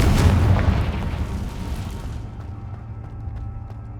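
A Confringo fire spell blasts in Hogwarts Legacy with a single deep, heavy boom right at the start. Its rumbling tail fades away over the next few seconds.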